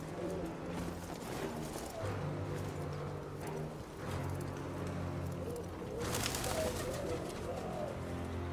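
Pigeons coo steadily at a pigeon loft in the game Phantom Blade Zero, low throaty calls overlapping in a continuous murmur, with a faint clip-clop of hooves and a brief burst of brighter ambient noise partway through.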